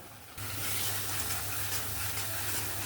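Prawn and banana flower curry with green chillies, cashew and poppy seed paste sizzles steadily in a pan. The frying hiss jumps in loudness a moment in, then stays as a close, even crackle with stirring and no voices.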